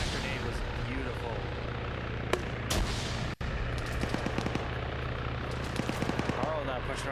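A grenade bursts during a team match in an online shooter, with a couple of sharp blasts among dense, continuous gunfire and battle noise while a commentator talks over the action.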